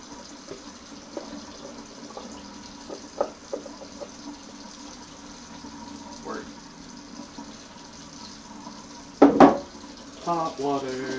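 A kitchen tap runs while a stove is being cleaned, a steady stream of water filling and splashing, with a few clinks of dishes and brief louder gushes near the end and a person talking over it.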